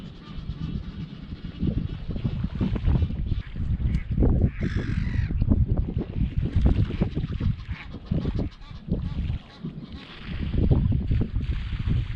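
Gulls and waterfowl such as ducks, coots and geese call from the water, a dense chorus of overlapping cries and honks under constant background noise, with one brief higher call standing out.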